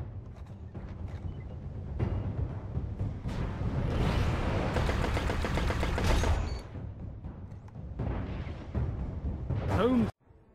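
The SUROS Regime exotic auto rifle fires in Destiny, with sustained rapid automatic bursts that build into a dense stretch amid explosions and battle noise. A voice speaks over the gunfire.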